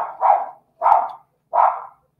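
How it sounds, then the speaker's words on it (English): A dog barks three times in steady succession, each bark a loud, close, full-bodied woof spaced under a second apart, with no talk over it. "Oh my gosh, my dog's going crazy."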